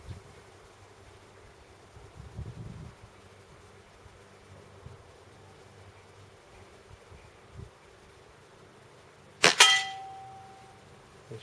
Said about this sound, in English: We're going to cock this, and we're going to hit 5 shots at the target, freestanding, 10 metres.